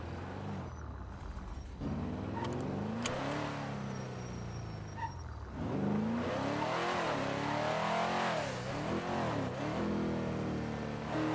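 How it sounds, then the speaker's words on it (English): Bullet sports car engine in GTA V (NoPixel roleplay) revving and accelerating hard, pitch climbing and dropping through gear changes with a brief tire squeal, loud and continuous throughout. "It's crazy you're driving the Bullet."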